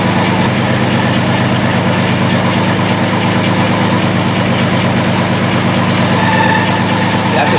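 A 2002 Volkswagen Jetta VR6 engine idles with a misfire from a shorted fuel injector, a steady loud mechanical drone with an uneven pulsing rhythm throughout and no one speaking.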